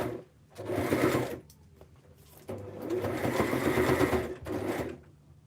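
A sewing machine stitches through a handmade junk journal in two sustained whirring bursts separated by short pauses, close and clear, with no talking.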